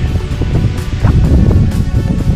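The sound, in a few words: strong wind gusts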